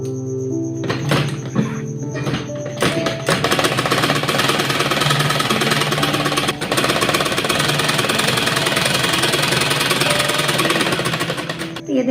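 A loud, close sewing machine stitches lace onto the sleeve of a kurti made from leftover fabric, its fast needle rattle running almost without a break after a few short starts.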